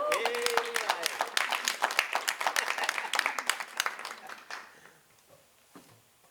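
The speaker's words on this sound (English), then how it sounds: "One more round of applause for Levi." A round of applause at a regular board meeting, with clear individual claps forming a lively, moderately close burst. It thins out and fades to a few scattered claps near the end.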